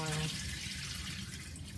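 Tap water running steadily into a sink or bowl while soaked beans for pasta fagioli are rinsed, a close, continuous hiss and splash with a voice talking over it.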